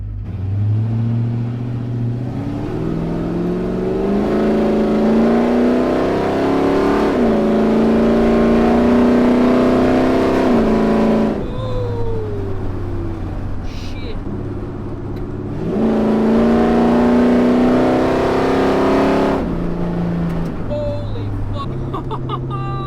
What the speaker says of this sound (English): We'll give her a launch and row through some gears here.